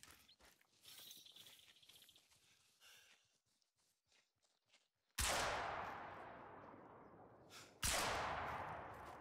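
Two loud rifle gunshots in the hunting video game theHunter: Call of the Wild, each a sharp blast followed by a long echoing decay, heard after a stretch of quieter ambient game sound.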